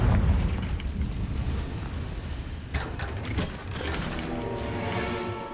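A Confringo blasting spell goes off in the Hogwarts Legacy video game, a booming burst with crackling mechanical debris over a steady low rumble, followed by a few sharp impacts and a sustained tonal ring.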